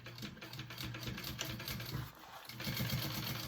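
Rapid, close mechanical clatter of a sewing machine stitching over a fabric pocket to close it up, running continuously without speech.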